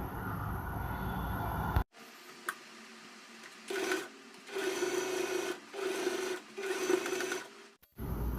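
Sewing machine stitching the back panel and shoulder of an Anarkali made from an old silk saree, running in several steady bursts of a few seconds each with short pauses between, close and fairly loud, no talk.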